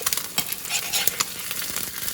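An egg fries in a pan with a close, steady sizzle, punctuated by quick tapping and scraping of a utensil against the pan. No voice is heard.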